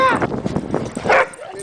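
Puppies bark and yip in short, excited bursts, close by and fairly loud, with a small whimper near the end. A person speaks softly alongside them.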